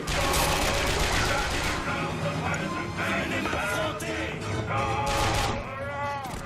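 Heavy gunfire and rocket launcher blasts rip through a Bioshock Infinite fight, loud and relentless, with crashes and warbling tones mixed in and voices talking over the din.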